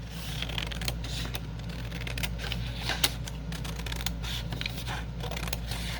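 Scissors trim the paper of a windowed junk mail envelope, giving a steady run of close, crisp snips and rustles without speech.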